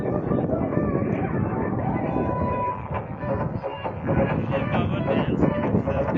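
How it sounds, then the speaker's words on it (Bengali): A boat's engine drones continuously from the stern of a small river boat, a steady rumbling hum heard close up with wind buffeting, while people talk over it. "এই যে পিছে আমাদের নৌকা চালাচ্ছে ইঞ্জিন"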